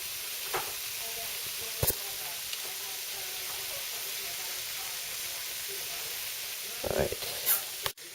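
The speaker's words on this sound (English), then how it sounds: "I added the spices and I've mixed it into the vegetables, the potatoes, the peppers, the onions, and the heat or the flame is on a medium heat." Spiced potatoes, peppers and onions fry in a pot over a medium flame, giving a faint, steady sizzle broken by a few quick clinks and scrapes of stirring.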